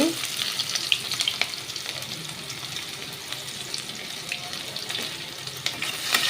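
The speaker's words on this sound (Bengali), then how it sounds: "এবার আমি কাটা পেঁয়াজগুলোকে দিয়ে দিচ্ছি।" Chopped onions sizzle in hot oil with a dried red chilli, a continuous close crackling hiss with light stirring clatter and no talk.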